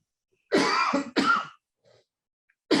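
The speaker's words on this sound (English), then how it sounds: "I'm gonna cough here" Two sharp, close coughs in quick succession, a brief quiet pause, then a third cough starting at the very end.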